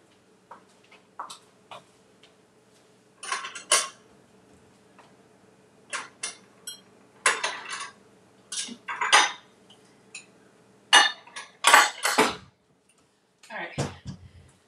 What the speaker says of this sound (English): I'm just gonna cut the strawberries a little bit so that they can blend up.